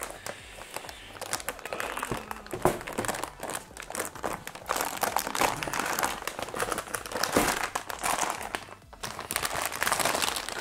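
An Asus ROG Strix 4090 graphics card is unboxed, with close, loud crinkling and rustling of packaging and foam, scraping handling noises and brief bumps throughout.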